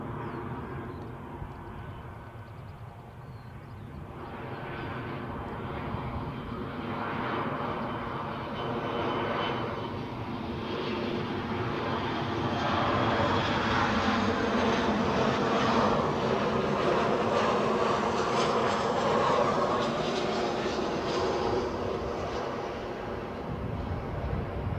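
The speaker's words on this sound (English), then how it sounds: "Definitely hear an ATR somewhere" An ATR turboprop airliner at Edinburgh Airport, its engines a steady, building drone that swells to a loud peak midway and holds, with no voices over it.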